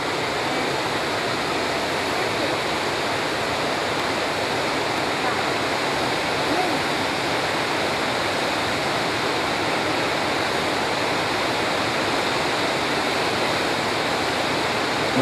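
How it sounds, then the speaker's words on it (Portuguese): Roadside waterfall formed where a river branch drops, roaring as a constant dense rush of falling water close by, unbroken for the whole stretch. "Uma cachoeira que forma"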